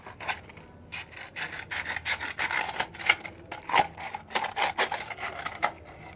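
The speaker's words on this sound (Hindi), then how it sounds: "मैं किस तरीके से मैग्नीशियम रिबन को रेगमाल से रगड़ रही हूँ" Magnesium ribbon rubbed with sandpaper, a close, dry scratchy scraping in quick repeated strokes with short pauses, steady and fairly quiet.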